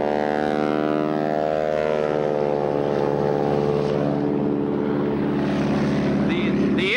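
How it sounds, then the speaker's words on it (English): A World War II North American AT-6 trainer airplane taking off, its radial engine and propeller giving a loud, steady droning roar with rising harmonic tones, heard at an agricultural aviation setting. "The noise you just heard was the sound of a World War II trainer taking off."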